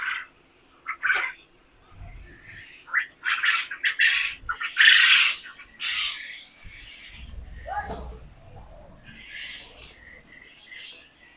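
Quail in a bamboo-and-tin farm shed with a polythene roof give bursts of chirps, squawks and wing flutters, near and fairly loud, while a person talks over them.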